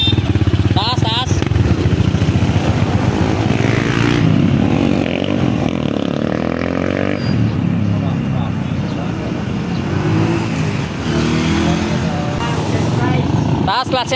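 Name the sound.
Honda XR200 motorcycle engine revving to test new clutch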